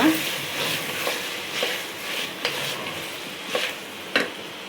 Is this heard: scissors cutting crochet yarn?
no